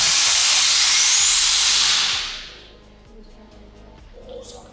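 A loud, bright rush of hiss fires out as a sample shoots down inside a nuclear reactor, sustained for about two seconds and then fading into a low, steady background hum with faint ticks.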